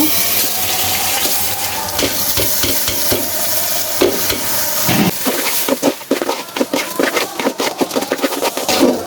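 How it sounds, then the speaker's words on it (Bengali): Pulao rice is stirred into browned onions in a hot pan, a loud, close sizzle with a dense run of scraping strokes from the spoon that grows more rhythmic toward the end. No talk is heard. "ভালোভাবে নেড়ে নিব।"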